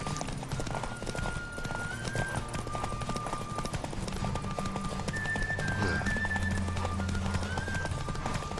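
A horse gallops during a race in The Witcher 3 video game, with steady clip-clop hoofbeats and an occasional whinny under a dense, continuous bed of game music and ambience.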